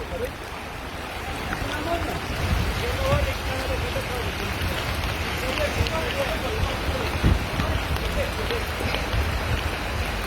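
Steady, dense heavy rain pours down in a downpour in Ünye, Turkey, with a constant hiss and patter, continuous throughout with no pauses.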